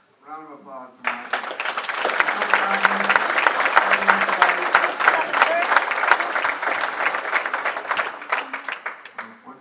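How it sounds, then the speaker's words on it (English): A brief spoken voice comes first, then a meeting audience breaks into loud, sustained applause that holds steady for about eight seconds and tapers slightly near the end. "Let's have a round of applause for Mike."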